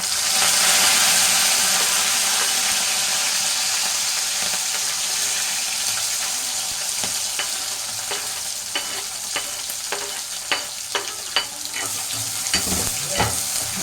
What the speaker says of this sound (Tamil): இன்னும் நல்லா வதங்கட்டும்